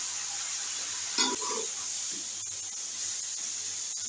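Sliced ridge gourd (tori), a kilo of it, frying in a pan with ginger-garlic paste gives a steady, fairly quiet sizzle, with a short burst of stirring and scraping early on and no talk.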